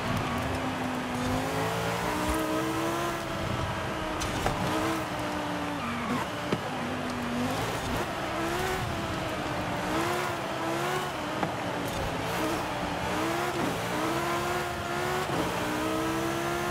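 A 1,200-horsepower V10-swapped Ferrari 458 Italia in Forza Horizon 5 revs loudly and continuously, its engine pitch rising and falling through repeated throttle swells with no talking.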